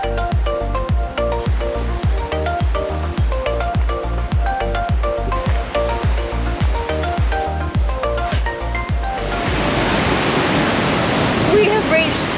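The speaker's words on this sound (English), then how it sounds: "We have reached Marian Waterfall, and wow, it is so powerful." Powerful Marian Waterfall in Fiordland roars as loud, rushing white water near the end, after a long stretch of rhythmic, heavy thumping pulses.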